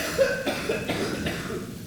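A narrator's voice imitates a character's cough with a few short, rough bursts in a quick, uneven rhythm. The sound is close and moderately loud, with no other voices.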